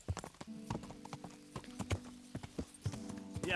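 Horse hooves clip-clop in Kingdom Come: Deliverance, a quick uneven run of hoof strikes over a low steady tone, fairly quiet.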